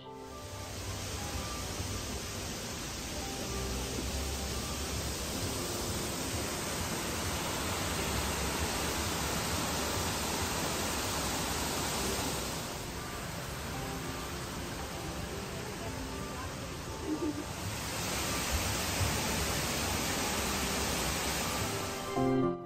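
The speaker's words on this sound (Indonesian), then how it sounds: "suara natural dari air terjunnya ini sudah sangat menenangkan jiwa dan raga" Continuous broadband rush of a waterfall in Bali, steady and enveloping, with no voices over it.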